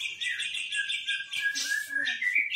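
Songbird chirping and trilling close by, with a steady run of bright high notes and short whistled phrases throughout, shown at a bird sale.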